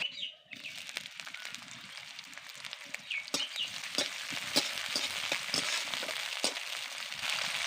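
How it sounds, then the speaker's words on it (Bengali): Sliced onions fry in hot oil in a kadai, giving a steady close sizzle with scattered sharp crackles and pops. The sizzle swells after a brief quiet start. "পেঁয়াজকে আমি নরম করে ভেজে নেব"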